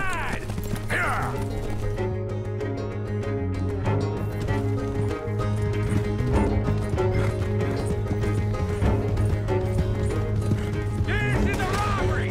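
Horses gallop in Red Dead Redemption 2, with steady clip-clop hooves and occasional neighs sounding close under music and shouted voices throughout.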